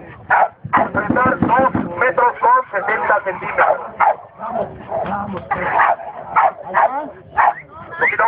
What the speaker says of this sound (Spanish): vamos con Canelo, el perro más pesado, único en la categoría de 20 kilos